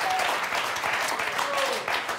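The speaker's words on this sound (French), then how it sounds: "on va applaudir très fort" A game show studio audience claps steadily under light talk, a dense, moderately loud burst of applause with a few whistle-like tones through it.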